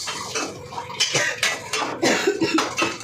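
A spoon scrapes and clinks against a cooking pot as tomato gravy is stirred for a Punjabi dhaba-style dish, with irregular close strokes and knocks, plus a brief cough-like sound.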